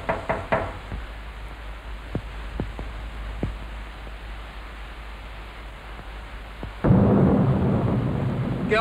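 A thunderstorm with rain plays in a 1974 Hindi film scene, with several sharp knocks or cracks early on, then a sudden loud, sustained rush of rain that continues to the end.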